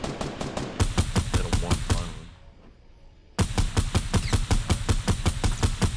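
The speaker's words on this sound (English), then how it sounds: "There's someone else shooting at him, too." Rapid bursts of automatic gunfire from the Fortnite video game, loud and close in regular volleys, briefly fading to a quieter stretch before another sustained string of shots resumes at full strength.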